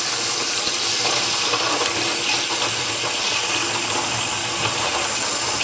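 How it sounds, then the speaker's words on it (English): Water poured over pumice in a small container bubbles and hisses continuously, a loud, dense, close fizzing wash with no pauses and no voices. "And just let it bubble for a bit"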